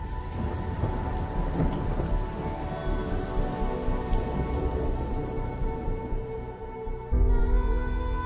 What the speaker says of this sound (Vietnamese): Một ngày mưa tầm tã buốt lạnh